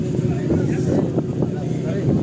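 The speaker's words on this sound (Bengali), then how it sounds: "সম্ভবত একটা ট্রলার আসলো এখানে।" A low, steady engine rumble of a fishing trawler at Teknaf jetty churns beneath voices and wind buffeting, continuous throughout.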